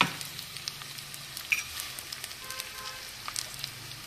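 Two medium-sized onions frying in hot oil in a pan for a chicken liver curry, a soft continuous sizzle with faint crackles and pops, close and quiet with no talk.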